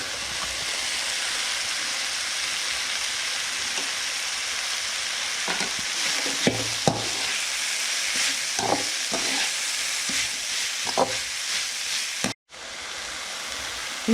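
Cabbage and yellow capsicum stir-frying for veg ball Manchurian, a loud steady sizzle with scraping spatula strokes and clinks near the middle, then a brief cut near the end.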